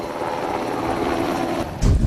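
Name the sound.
military helicopter at JSA Panmunjeom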